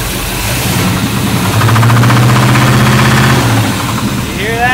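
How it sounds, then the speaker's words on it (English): A 1976 Corvette V8 race car with a knocking engine, revved up loudly at close range: a rough, heavy roar swells and holds, with a repetitive mechanical knock pulsing through it, then drops back toward idle. "When we revved it up, it went knock, knock, knock, knock, knock, knock."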